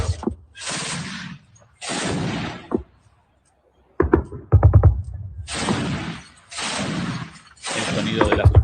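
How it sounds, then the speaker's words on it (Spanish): Loud blasts and bursts of rapid firing repeat in clusters, separated by short silences, rumbling and crackling like explosions and anti-aircraft fire. "El sonido de las explosiones, metralla antiaérea."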